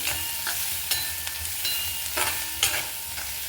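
Egg bhurji with turmeric and chili powder is stirred in a hot pan, a steady close sizzle broken by repeated scraping strokes of the spoon, with no talking.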